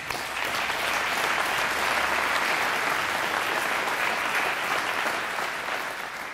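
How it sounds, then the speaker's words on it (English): Sustained crowd applause at a grand opening of a state crisis stabilization center, loud and steady for several seconds as the board of directors is recognized. "Let's give them a round of applause."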